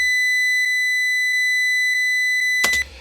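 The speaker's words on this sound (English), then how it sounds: "I started with a 1 kilohertz sine wave," A 1 kHz sine test tone is fed through a reamping box. It holds as a steady, loud, pure pitch with faint periodic ticks, then cuts off with a brief burst of noise.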